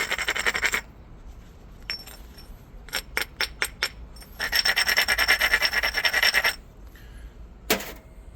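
Grinding down a high spot on a stone hand axe: bursts of gritty rasping come in short strokes and longer passes, with a quick run of sharp taps in the middle, close and alone.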